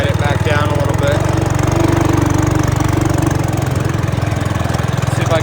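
A Trail Master Hurricane 200X go-kart engine with a stage 1 performance kit and a small muffler runs steadily up close, a loud continuous putter with a low pulsing rhythm and a slight rise in revs midway.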